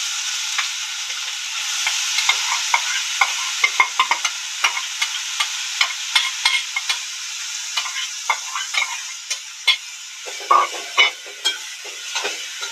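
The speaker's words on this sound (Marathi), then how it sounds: "नंतर गाजर टाकायचा किसलेला।" Grated carrot frying in ghee for carrot halwa is stirred with a spoon, giving a continuous soft sizzle punctuated by frequent sharp scraping taps that grow louder and more regular toward the end.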